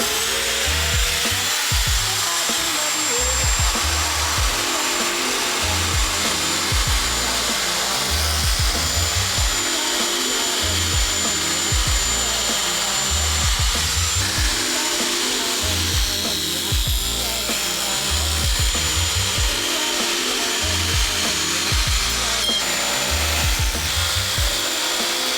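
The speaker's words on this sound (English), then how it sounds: "I got my clipper tool. This is stainless steel. This thing will cut through stainless steel." A clipper tool slowly cutting through stainless steel on a turbo widebody BMW E28 build, giving a steady, loud, continuous grinding and rasping that runs throughout without any talk.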